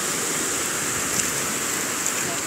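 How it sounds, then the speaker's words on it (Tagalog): Big waves breaking on a rocky beach make a steady, loud, rushing roar that fills the whole clip without letup. "Lalaki talaga ng alon."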